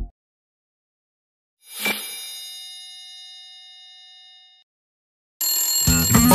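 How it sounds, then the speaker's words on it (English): An iPhone alarm rings out with a bright chime that hangs and slowly fades, then a second, louder burst of the electronic ringtone starts near the end. "The phone's ringing."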